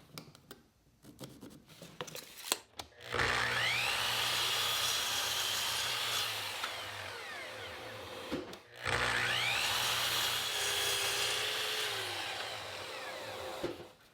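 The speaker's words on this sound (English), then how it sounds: "make this cut with the chop saw" A chop saw cuts through a wooden board twice, each pass a loud, sustained whining roar that winds down before the next cut starts, with a few quieter clatters at the start.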